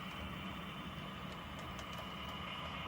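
Two Train Master diesel locomotives haul westbound train 71 across a bridge, giving a steady, distant, even rumble with a broad noisy hiss and no distinct peaks.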